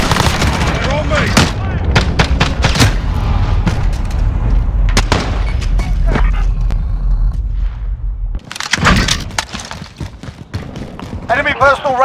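AR-15 (M4A1) rifle fire in Modern Warfare: rapid loud cracks in quick clusters against a dense battle backdrop with booming explosions, a brief lull near the end, then more shots, with voices talking over parts of it.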